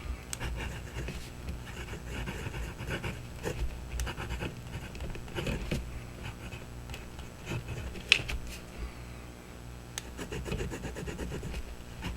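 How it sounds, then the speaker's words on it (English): An Armando Simoni Club Studio fountain pen nib scratches softly across paper, quiet irregular strokes and taps of writing up close, with no voices. "Let's see how that nib lays down that Dragon's Napalm ink."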